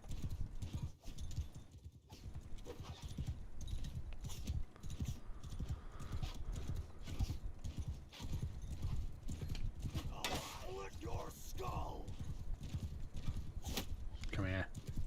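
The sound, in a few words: horse hooves clip-clopping in a modded video game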